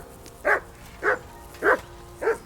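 A dog in the video game Kingdom Come: Deliverance 2 gives four evenly spaced, fairly loud barks roughly half a second apart over a quiet background.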